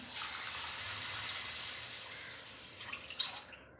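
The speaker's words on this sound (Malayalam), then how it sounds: "നമുക്കിനി ഇതിലോട്ട് വെള്ളം ഒഴിച്ചു കൊടുക്കാം" Water is poured onto roasted vermicelli in a pan, a soft, steady splashing pour that ends in a few drips and trickles, faint and close, with no voices.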